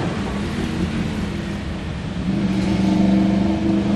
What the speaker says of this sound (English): As you can see, lots of motorbikes in the streets. Lots of noise going on.